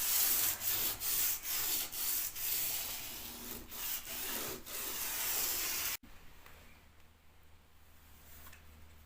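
Light sanding across oak floorboards between coats of finish: a run of rhythmic, close abrasive strokes for about six seconds, then the rasping stops and only a faint room hum remains.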